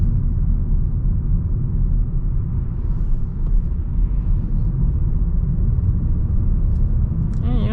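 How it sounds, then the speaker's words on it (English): Steady low road and tire rumble fills the cabin of a 2026 Toyota Corolla LE on the move, a constant droning hum with no breaks and no one speaking. "When I say quiet, constantly hearing the tires."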